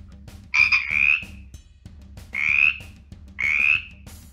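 Felix the Frog, a cartoon frog, gives three loud, close croaking calls, each a rasping burst under a second long, separated by short pauses, over a faint low background.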